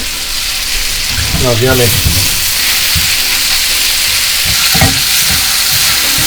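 Chicken fajitas sizzle loudly and steadily in a pan over high heat, a dense frying hiss running throughout with brief stirring and scraping sounds, while a person speaks briefly over it.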